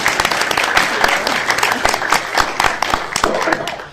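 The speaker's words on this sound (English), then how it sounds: "So a round of applause for Krista on that successful" Lively audience applause at an entrepreneurs' talk event, dense and loud clapping from a crowd that runs steadily throughout, with some voices faintly mixed in.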